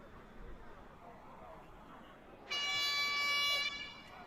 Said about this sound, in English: Heard the honk, know what it means.